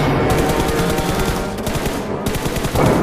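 Rapid automatic gunfire in a dense, loud sustained burst with brief gaps between volleys, close and harsh, with no talk.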